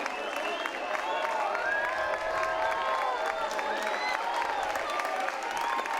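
A Pittsburgh baseball crowd at a USF vs ECU game cheers and applauds in the 5th inning, a loud, sustained roar with scattered whistles that never lets up, with voices talking over it.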